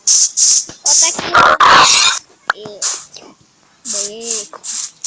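A pig oinks in the Minecraft video game, a few short grunting squeals around the middle and end, heard between bursts of loud nearby talking and whispering.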